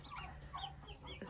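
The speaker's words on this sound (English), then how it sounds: "13 turkeys and 9 chickens." Young backyard chickens kept with turkeys cluck softly in short, faint, scattered calls, heard at a distance over low background hum.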